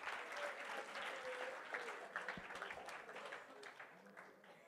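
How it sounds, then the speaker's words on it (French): Steady applause from a stand-up comedy audience, a dense patter of clapping hands that gradually fades toward the end. "Vous pouvez vous applaudir."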